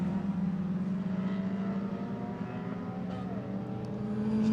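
Historic race cars roaring past on a circuit at a festival meeting, a loud sustained engine drone holding steady and building slightly toward the end, with no commentary audible.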